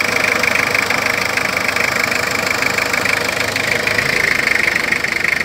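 Toyota Revo diesel engine running, a loud, steady close-up clatter with a continuous knocking rhythm and a constant drone, no voices.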